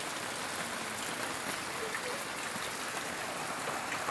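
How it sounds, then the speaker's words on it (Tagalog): Heavy rain pouring steadily outdoors, a dense even hiss of falling water with no breaks, moderately faint and continuous throughout. "kusuka sa ulan dire"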